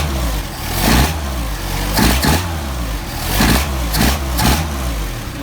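A carbureted car engine idles low and a little lumpy, close and loud, its steady throb broken by several short blips of the throttle at roughly one-second intervals.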